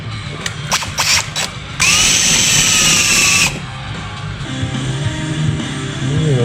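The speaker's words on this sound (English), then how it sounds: "I'm gonna chamfer the hole I drill in there" A power drill whirs in short bursts while drilling a hole in an MS880 part, then runs steadily for a couple of seconds before stopping, followed by quieter mechanical handling sounds.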